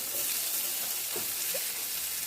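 Steady broadband sizzle of hot oil with crushed garlic and mustard seeds tempering for an Assamese fish curry, with a couple of small pops and crackles near the pan.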